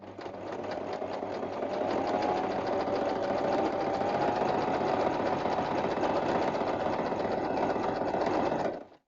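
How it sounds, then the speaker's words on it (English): A domestic sewing machine stitches down the side of a Christmas block quilted hanging in one continuous close, loud run that stops abruptly near the end. "I'm now going to machine down this side"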